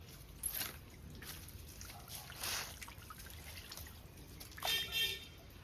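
Water trickles and splashes faintly while something is washed to rinse away ghee from pipes, with a few louder splashes near the end.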